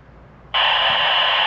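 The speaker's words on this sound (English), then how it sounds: "So that's free air interference that the radar is picking up" A radar sensor wired in with LED driving lights on a BMW E31 picks up free-air interference, cutting in abruptly as a loud, steady electronic buzzing tone that holds without a break.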